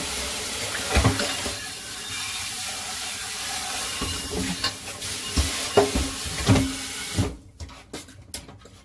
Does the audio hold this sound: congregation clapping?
no